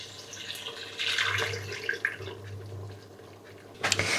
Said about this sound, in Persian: الان من بهش آب جوشیده اضافه میکنم.